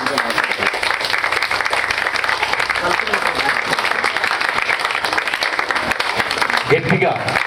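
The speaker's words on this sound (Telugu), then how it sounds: "గట్టిగా క్లాప్స్ కొడుతూ మన ఆహ్వానాన్ని మన్నించి" An audience applauds steadily throughout a church consecration ceremony after a dance performance, with dense, sustained clapping and crowd voices mixed in.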